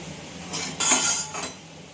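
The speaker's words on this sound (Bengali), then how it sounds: "কড়াইয়ের ঢাকনাটা আবার খুলে দিলাম" A metal lid comes off a kadai pan while vegetables cook, giving a couple of sharp clinks and scrapes in quick succession, close and fairly loud against a quiet kitchen background.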